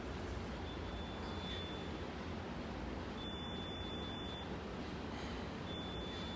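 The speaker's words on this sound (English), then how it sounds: "It's some kind of alarm." An alarm in a New York building gives faint, high, thin beeps: a steady tone, then short clustered pulses, heard at a distance under constant rainy street and traffic noise.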